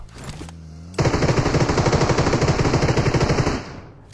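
An MG3 machine gun fires in a long, loud sustained burst in the BGMI battle royale game, rapid evenly spaced shots running about two and a half seconds before cutting off, after a brief low hum.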